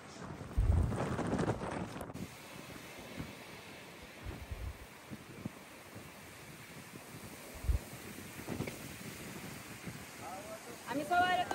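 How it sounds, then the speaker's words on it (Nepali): Strong wind gusts at Dhumba Lake in Mustang blow across the microphone as a rough, continuous rumbling roar with surging bursts. It is fairly faint overall, and voices may be heard beneath it. "तर हावा चाहिँ लास्टै चलेको छ"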